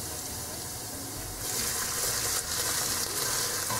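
Garlic frying in a pan for Peruvian empanada filling crackles softly, then the sizzle jumps louder and brighter as onion goes in partway through, holding steady afterward.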